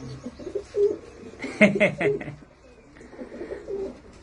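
Domestic pigeons kept at a house coo in soft, repeated rolling calls, with a louder cluster of coos midway and quieter ones trailing off, close by amid faint background voices.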